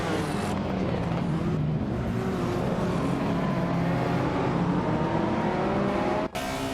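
Retro supercars, including a 1987 Ford Sierra RS500 Cosworth, racing at Istanbul Park in a racing game, with a continuous engine drone and shifting revs that drop out briefly near the end.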